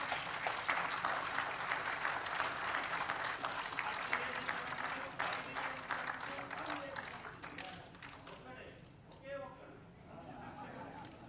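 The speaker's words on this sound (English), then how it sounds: "a big clap for him" Steady applause fills a hall at a golden jubilee celebration, dense clapping from a seated audience that holds for several seconds before thinning out, with someone speaking into a microphone over it and after it fades.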